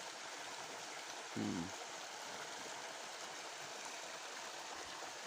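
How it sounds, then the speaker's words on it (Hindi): Steady rushing water flows continuously through an irrigation channel, a broad even wash of sound with a brief low thud partway through and no voices. "और ये पानी इधर से जा रहा है, निकल रहा है।"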